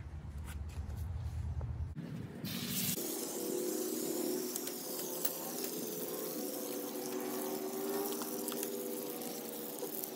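Water sprays and splashes steadily as a horse is rinsed, starting after a few seconds of low rumbling and then running as a continuous close hiss.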